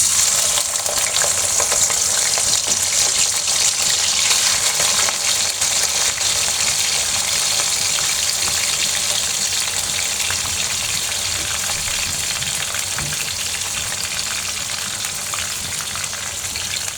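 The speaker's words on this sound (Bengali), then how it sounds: "এই তো চিংড়িগুলো তেলে দিয়ে দেব" Prawns frying in hot oil for a bitter gourd dish, a continuous loud crackling sizzle with occasional stirring, steady and close with no voices.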